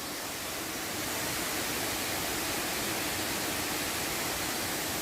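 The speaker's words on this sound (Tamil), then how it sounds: "தண்ணி ஊற்றுறது பார்த்தீங்களா" Water pours steadily into a forest pool at Kattar waterfall, near the Veerappan forest area. It makes a loud, continuous broadband rush with no break, close by, and no voices are heard.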